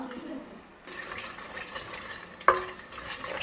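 Fenugreek seeds and dried red chillies sizzling in hot oil as a tempering for fish curry, a soft crackling hiss that rises after a brief lull, with a sharp clink partway through.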